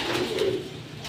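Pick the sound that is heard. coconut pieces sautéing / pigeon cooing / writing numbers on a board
pigeon cooing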